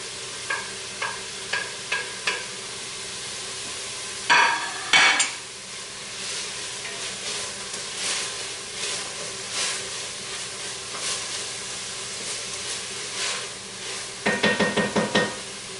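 Onions and garlic fry in a pan for a seafood alfredo, giving a continuous bright sizzle, broken by a few sharp utensil taps and a busy burst of stirring and scraping partway through and again near the end.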